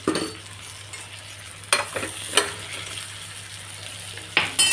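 Salted, masala-stuffed brinjals fry in a pan with a soft continuous sizzle, broken by a few sharp scraping stirs and clinks of the spatula, close by and with no talking.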